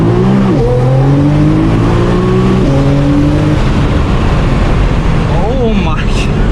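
A 1300 bhp Nissan GT-R R35 tuned on E85 with heavy turbo boost launches at full throttle, its engine roaring loud and close from inside the car as revs climb and drop through rapid gear shifts.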